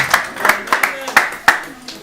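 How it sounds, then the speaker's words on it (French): A church congregation clapping to acclaim God, several sharp handclap bursts in an irregular rhythm, close and fairly loud, with voices mixed in underneath. "Est-ce qu'on peut acclamer notre Dieu pour le retour de sa servante?"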